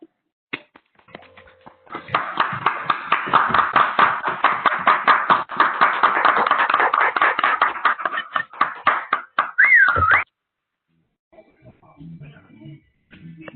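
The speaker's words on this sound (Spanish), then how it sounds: "de nueva cuenta les voy a pedir un aplauso para Aide." An audience at a morning session of technical presentations breaks into dense, steady applause that swells and runs for about eight seconds. It then thins into scattered claps and stops abruptly, and faint sounds follow.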